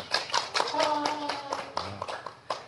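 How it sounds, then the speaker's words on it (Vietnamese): A small gathering at a wheelchair donation event in Kontum, Vietnam, claps in scattered, uneven bursts to thank donors, fairly quiet and close, with some murmured voices mixed in. "Xin một tràng pháo tay cảm ơn tất cả quý ân nhân."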